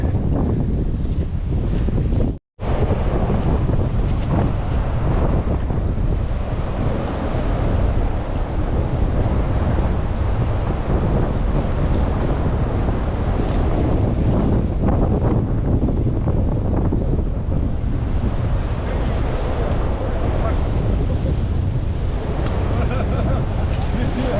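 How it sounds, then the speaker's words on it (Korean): Strong wind roars into the microphone on a mountain trail toward the summit of Gajisan, Korea, on a first-snow hike. The gusting rumble is loud and constant, with one brief dropout near the start. "바람이 많이 불고 있고요"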